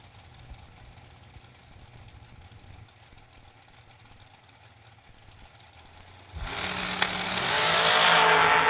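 Drag race cars at a drag strip, including the Folk Machine, sit at a low rumbling idle, then launch with a sudden, very loud, sustained roar that builds steadily as they tear down the track.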